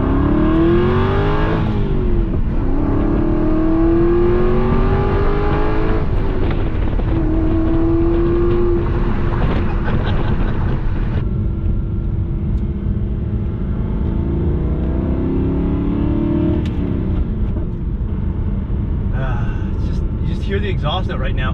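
Aston Martin V8 Vantage engine revving under 4,000 RPM with a deep, continuous exhaust note, rising and falling with jerky manual shifts while driving, loud and close, with someone talking over it.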